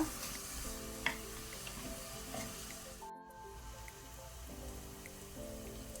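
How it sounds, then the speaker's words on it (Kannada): Chopped onions frying over medium-high flame in a pan for pav bhaji, a steady close sizzle with faint crackles and a brief stir partway through, and no talk over it. "ಈಗ ಈರುಳ್ಳಿಯನ್ನು ಮೀಡಿಯಂ ಟು ಹೈ ಫ್ಲೇಮಲ್ಲಿ ಒಳ್ಳೆ ರೀತಿ ಫ್ರೈ ಮಾಡ್ಕೊಳ್ಳುವ, ಗೋಲ್ಡನ್ ಬ್ರೌನ್ ಕಲರ್ ಬರುವ ತನಕ"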